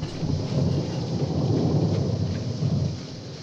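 Heavy rain pours with low rolling thunder in a scene from the 1980 Friday the 13th horror film, a continuous loud rumble and hiss throughout.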